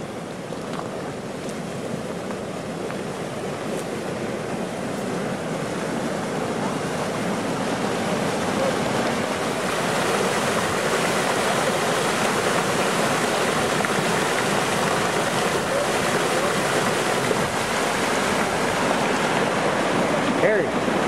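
Warm water outflow rushes into the Turkey River in Elkader, Iowa, a steady broadband roar of churning water that holds constant throughout, with wind buffeting the microphone.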